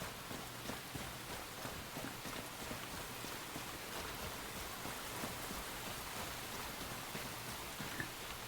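Steady rain in the survival video game Enshrouded, a dense, even wash of falling drops at constant loudness through the whole stretch, with no voices over it.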